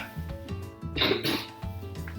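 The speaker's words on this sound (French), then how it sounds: "Oh, tu tousses, hein?" A child gives a short cough, a quick burst in the middle of brief background noise.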